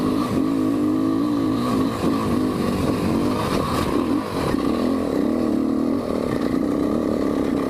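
A 500 motorcycle climbs a hill in second gear, its engine revving loud and strained with a steady, slightly wavering drone throughout and no talk.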